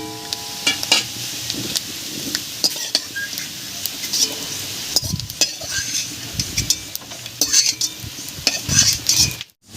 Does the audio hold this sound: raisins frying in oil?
yes